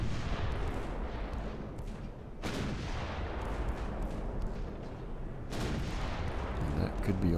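Naval guns boom in a World of Warships-style battleship match, a Nassau facing two Lord Nelsons, with heavy salvos at about 2.4 and 5.5 seconds over a constant rumble of battle noise and a commentator talking.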